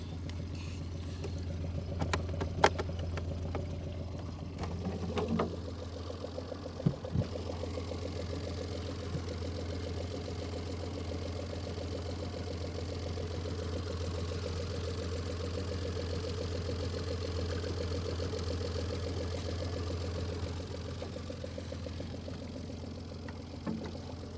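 A 2024 Suzuki DF25A 25 hp outboard boat motor idles with a steady, close, low mechanical drone and faint knocking, running continuously with no talking.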